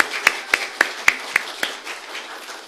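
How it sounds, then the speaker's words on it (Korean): Audience at a church scripture recitation contest clapping as a participant is called up, heard as a handful of sharp, evenly spaced hand claps over a faint murmuring room. "박수."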